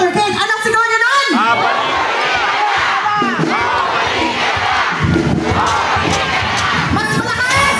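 A large crowd at a political campaign event for Isko Moreno shouts and chants loudly and continuously, voices overlapping in a roaring, energetic din.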